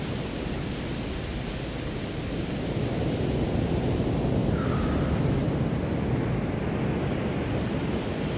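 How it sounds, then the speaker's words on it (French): Ocean waves break on a beach in a continuous, loud, broadband wash with steady surf roar and wind noise, swelling slightly partway through. "Là justement les vagues"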